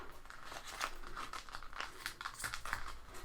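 A sticker peeled off a kit sheet, close and quiet: a series of crinkly, papery crackles and short tearing snaps in an uneven rhythm.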